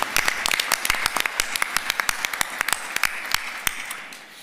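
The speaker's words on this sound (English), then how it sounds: "let's give the round of applause to our department heads and all county employees who are here tonight" Audience members at an evening county legislative meeting applaud department heads and county employees, with individual sharp claps standing out from a moderate ongoing patter that thins slightly toward the end.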